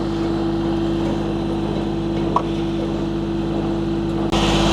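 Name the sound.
tractor engine running, powering Japa 365 firewood processor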